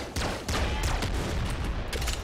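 Rapid gunfire in the game Nuclear Throne, a quick run of punchy shots with a booming low end, loud and continuous over a couple of seconds.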